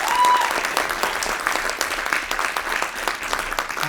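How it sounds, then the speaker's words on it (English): A school concert audience gives warm, sustained applause for the camera crew, a steady wash of many hands clapping at even loudness, with a brief whistle at the start. "So huge round of applause please for the camera crew."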